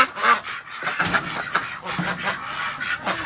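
Ducks honking and quacking in a cold barn, a series of close, loud calls in quick succession with a person's voice among them.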